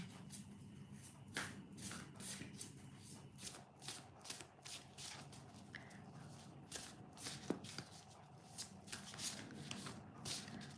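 A deck of oracle cards is shuffled and handled during a live reading session, with steady soft riffling and sliding of cards and occasional sharper flicks, close by and quiet, with no pauses.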